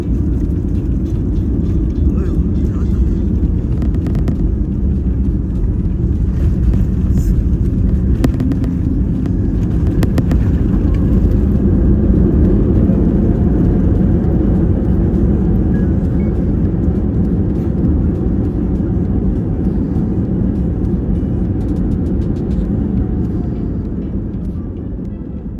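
Korean Air A321 airliner cabin just after landing at Gimpo airport, a steady loud low roar of engines and rolling that holds for about twenty-five seconds before easing slightly at the end.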